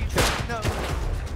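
Rapid gunfire in the survival video game Rust, a loud dense burst of shots crackling throughout, with voices shouting underneath.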